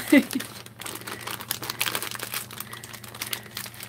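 A plastic bag crinkles and rustles up close in a continuous, uneven crackle with a sharper burst at the start, while faint talk sits underneath.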